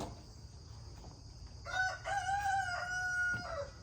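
A rooster crows once, a clear drawn-out call starting midway, over quiet background hiss.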